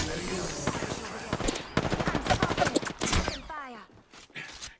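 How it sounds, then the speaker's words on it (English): Rapid bursts of automatic gunfire from the Apex Legends video game rattle out in quick succession, loud and close, then fade into scattered shots and a whirring effect as firing tapers off. "Getting shot at."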